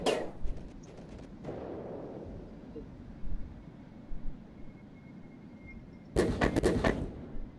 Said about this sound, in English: Oh, they're shooting us, they're shooting us.